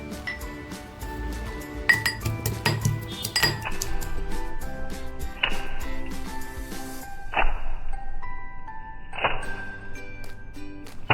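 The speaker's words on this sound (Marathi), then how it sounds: "थोडीशी लसूण आहे ना टेचून घेते" Garlic being pounded in a home kitchen while preparing a pomfret fish curry, giving a series of sharp metallic clinks and knocks at close range, irregular and fairly loud, with no talking.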